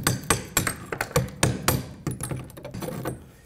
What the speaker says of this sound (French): Il va falloir, évidemment, gratter un peu le ciment